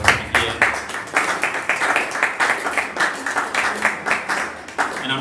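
An audience at a mindset seminar claps for the organizers and speakers, the applause coming in uneven, pulsing bursts of moderate loudness.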